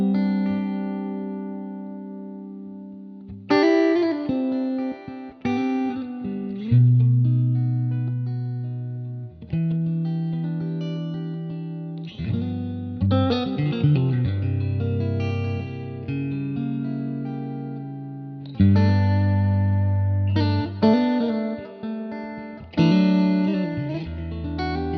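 Electric guitar on a clean tone, run through Seriatone Centura and EP Booster pedals into a TheGigRig switcher, plays sustained chords and melodic phrases in several bursts separated by short gaps, with no talking.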